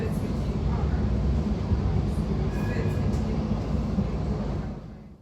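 A Badner Bahn tram-train rumbles through Vienna toward an underground tram tunnel, a steady low rolling roar of wheels and running gear that fades out at the end, with no talking over it.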